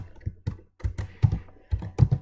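Keys clack on a computer keyboard as Kotlin code is typed, a close, uneven patter of single strokes and quick pairs with no talking.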